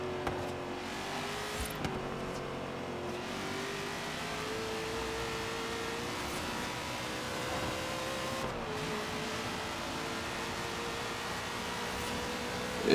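A Ford Mustang Boss 302 in Forza Horizon 3 holds a steady, droning V8-style engine note that shifts slightly in pitch as it cruises, heard alone and fairly quiet with no talk.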